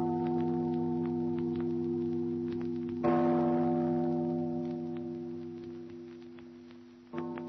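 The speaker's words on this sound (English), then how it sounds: "Father, listen to the bell." A church tower bell in an old-time radio drama strikes with deep, sustained ringing tones; a fresh heavy stroke lands midway and another near the end, each slowly fading, with no talk.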